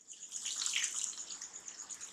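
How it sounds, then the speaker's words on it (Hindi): Water is poured from a glass into mutton curry simmering in a pan, a continuous bright splashing and gushing that swells, then settles into a steady trickle. "अब इसमें हमें डालना है पानी"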